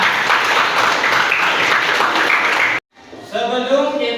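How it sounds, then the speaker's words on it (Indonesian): A group claps together in a classroom lesson, a dense burst of applause lasting almost three seconds before a sudden cut, followed by speech. "Tepuk tangan untuk semuanya."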